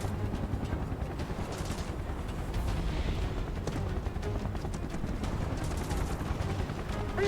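Continuous automatic gunfire from a battle in Final Fantasy VII Remake rattles steadily at close range, layered over a low droning rumble.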